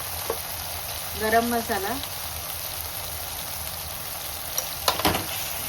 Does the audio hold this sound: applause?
no